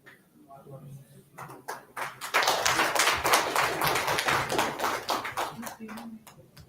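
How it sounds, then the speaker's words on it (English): Audience applause at an engineering college conference, starting softly then swelling into a sustained burst of clapping from a large crowd, steady and dense before tapering near the end. "A big round of applause for Sir."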